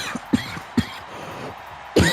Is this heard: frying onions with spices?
no